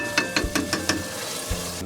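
A potjie stew with added water cooks in a pot, with a sizzle under several sharp scraping stirs and clinks in quick succession, close and fairly loud, with no talking.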